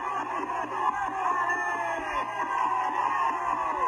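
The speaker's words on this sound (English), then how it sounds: "They're cheering it on." A large crowd yells and whoops in a dense, loud, sustained roar, with overlapping shouts rising and falling close by throughout.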